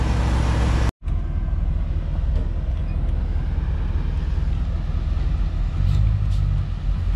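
A truck in four-wheel drive, a rig called Dirty Mac, tows a stuck vehicle free, its engine giving a loud, steady rumble after a brief cut, holding a constant drone with a slight rise near the end.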